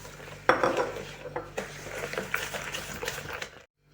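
A utensil clinks and scrapes against a bowl in a steady rhythm, with wet sloshing as three eggs, sugar and salt are stirred. The sound stops abruptly at the end.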